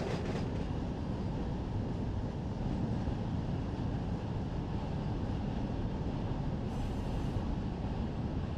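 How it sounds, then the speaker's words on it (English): A heavy freight train in Run 8 Train Simulator rolls under full dynamic braking, giving a steady loud rumble and roar of wagons on rails that holds unbroken for the whole stretch. "We're on full dynamic brakes."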